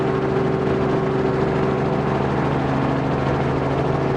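A small airplane engine drones steadily during a maintenance check flight after reported engine trouble, a loud continuous hum with a fixed pitch and no talk.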